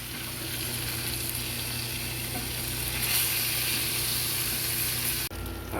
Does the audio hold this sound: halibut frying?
yes